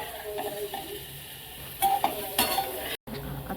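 Eggs fry in a pan with salt and coriander leaves, a low continuous sizzle with a few sharp clinks and scrapes of a spatula against the metal, close by.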